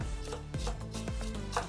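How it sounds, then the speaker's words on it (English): Hand chopping of banana bread ingredients with a knife on a board: a few quick, close knife strikes spaced roughly half a second apart, alone with no talking. "I prefer chopping rather than using a food processor."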